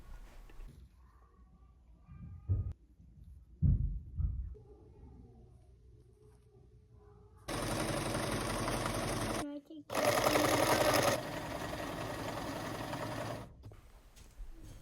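A sewing machine stitches sheet fabric over a layer of milkweed floss for a homemade sleeping bag, running in two long, loud, steady bursts after quieter handling noises and a few soft knocks.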